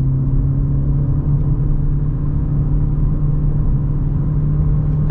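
Engine of a 2020 Ford Fusion SE with the 1.5-liter EcoBoost, accelerating uphill on a test drive: a loud, steady cabin drone and low rumble, holding even throughout with no voices.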